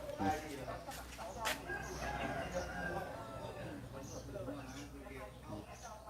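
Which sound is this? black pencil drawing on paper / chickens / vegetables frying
chickens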